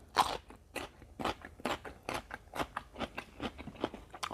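Someone eats homemade pork sausage with sticky rice and fresh vegetables. Close-up crunchy bites and chewing come in a steady, uneven rhythm, crisp and quiet, with no talk.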